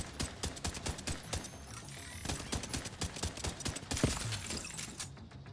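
Heavy automatic gunfire in the shooter game The Division, rapid overlapping shots and mechanical clatter rattling in dense bursts throughout, loud and close with no pauses.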